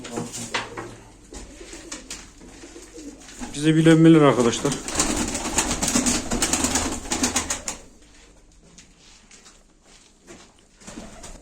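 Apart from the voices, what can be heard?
pigeons cooing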